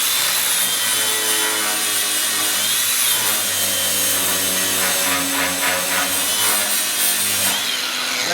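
A power grinder works a weld on the trimmed front bumper of a project 4x4 Pontiac Catalina, giving a loud, continuous abrasive whine with steady rubbing texture that holds throughout with no talk.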